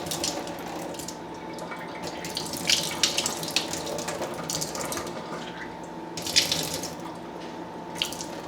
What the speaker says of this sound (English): Just gotta strain out that liquid.